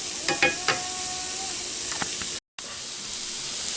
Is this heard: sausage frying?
yes